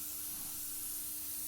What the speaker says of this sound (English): spraying a light mist coat on the surface and getting a more uniform appearance blended into the rest of the carpet